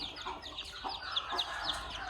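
Young chicks being brooded in cold weather peep continuously, a dense overlapping chorus of shrill, rapid cheeps close by with no talking.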